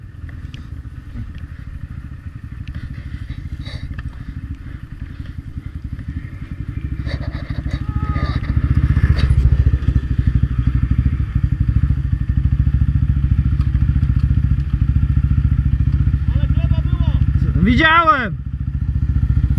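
ATV quad engine running steadily and loud throughout, with a low rumbling drone, rising revs near the end, and someone shouting over it.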